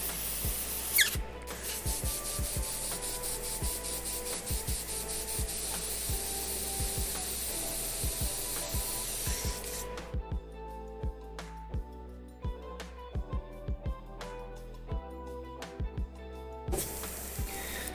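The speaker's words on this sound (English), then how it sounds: "Just cleaning my airbrush out." Airbrush being cleaned out: a steady airy hiss with rubbing and scraping runs for ten seconds, then fainter hissing continues under a series of sharp clicks and taps, close by.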